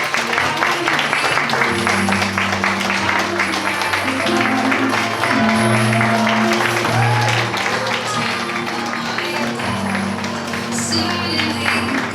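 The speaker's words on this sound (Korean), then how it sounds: "여러분 뜨거운 박수 부탁드립니다" Steady audience applause fills a wedding hall in Busan, with sustained music tones running underneath the clapping.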